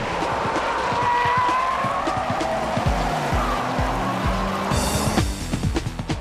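Racing cars, a Honda NSX-R with brake problems running close to a Ferrari F40 on a track, roar past at speed, with engine drone, tire squeal and a burst of higher engine noise near the end.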